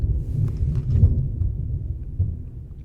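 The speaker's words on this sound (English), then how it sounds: "I'm so sorry for the thunder." Low, heavy thunder rolls continuously, a deep rumble that swells and fades with no other sounds on top.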